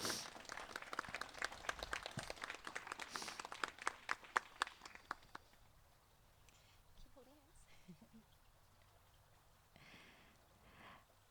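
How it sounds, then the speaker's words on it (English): Wedding guests break into a burst of lively applause for both sets of parents. Dense, close clapping lasts about five seconds, then fades into a quieter room with faint murmuring. "Let's give a round of applause to both sides of the parents."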